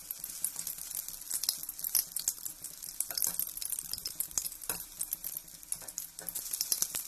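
Batter-coated idli pieces frying in hot oil for chilli idli give a steady close sizzle with irregular crackles and pops, heard alone without talk.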